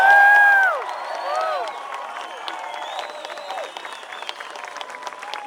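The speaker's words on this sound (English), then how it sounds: "Let's give them a round of applause" A crowd at an outdoor Tax Day Tea Party rally applauds soldiers, scattered clapping and cheering beginning after a loud opening burst, with whistling tones and a few shouts mixed into the sustained ovation.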